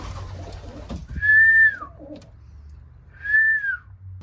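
Pet pigeons give two clear cooing whistle-like calls a couple of seconds apart, close and fairly loud over a low background hum.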